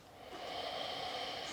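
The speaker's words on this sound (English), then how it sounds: "And breathe out." A long, steady breath pushed out during a seated chair yoga session, a soft airy rush that swells quickly and holds evenly for over a second, close and alone.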